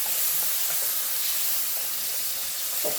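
Steady, close sizzling hiss of meat and noodles stir-frying for japchae in a hot oiled pan, with faint stirring clinks scattered through and no talk.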